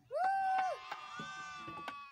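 Goats bleat at high altitude in the Karakoram mountains near the Ghosre Gang glaciers, a loud drawn-out wavering cry up front followed by softer bleats and mixed animal calls, with people's voices faintly present.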